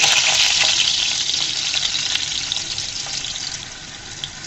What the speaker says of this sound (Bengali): তারপর আলুগুলো আমি তেলের মধ্যে দিয়ে দিচ্ছি।